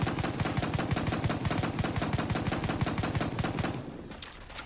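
Unsuppressed MAS-38 submachine gun mod firing in Fallout 4, a sustained rapid-fire burst of evenly spaced sharp shots for about four seconds, loud and close, then a brief tail.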